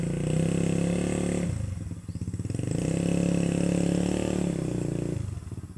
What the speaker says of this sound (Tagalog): Kasi nalulubog sa putik yung mga gulong ng motor.